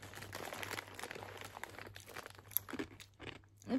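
Close, steady crunching and chewing of a crisp Japanese snack made with mint flour, with brittle crackles running throughout and a couple of sharper bites near the end.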